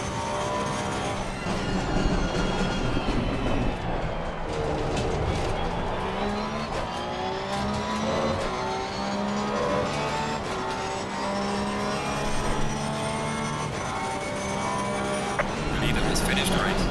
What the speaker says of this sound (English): I'll just leave the Porsche's amazing sound one more time